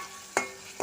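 Food frying lightly in a pan before noodles go in, a soft background sizzle broken by two quick scraping stirs of a utensil, close and without voices.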